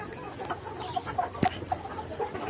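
Layer pullet hens, 120 to 130 days old, cluck in short, scattered calls over a low background hum on a farm of 3,600 birds, with one sharper squawk midway; moderately quiet.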